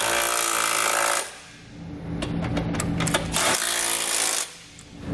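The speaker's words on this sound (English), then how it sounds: "I'm going to come back with a 19 millimeter socket and snug up all my hardware." A 19 mm socket on a ratchet or power driver snugs up the bolts of a Curt trailer hitch receiver being fitted to a 2008 Toyota. Two loud, buzzing mechanical runs frame a quieter stretch of rapid clicking between them.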